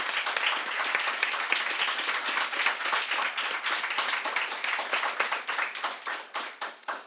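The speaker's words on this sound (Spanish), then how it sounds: "démosle un aplauso a los hombres" A church congregation claps in sustained, fairly even applause, individual hand claps becoming distinct and sparser as it winds down near the end.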